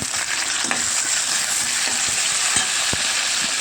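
Onions and curry leaves fry in hot oil for a Nellore-style okra and prawn curry, giving a steady close sizzle with occasional stirring taps and scrapes, and no voice.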